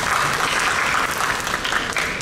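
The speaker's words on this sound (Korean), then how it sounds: "박수 한번 부탁드리겠습니다" Seminar audience at an architecture event in Busan breaks into applause to greet a lecturer, an even wash of many hands clapping, steady and moderately loud throughout.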